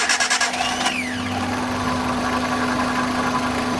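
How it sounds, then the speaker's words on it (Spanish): A car engine cranks with a few rapid starter pulses, catches, and settles into a steady idle with a constant hum and light vibration, near and fairly loud, during a camshaft position sensor (P0343) check. "Voy a arrancar el coche"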